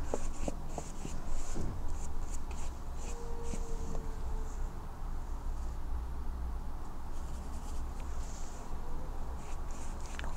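Brush strokes of watercolor on paper, a pale pink-tinted wash made from white mixed with quinacridone rose for a sky and clouds landscape, giving soft, intermittent scratchy brushing sounds up close throughout.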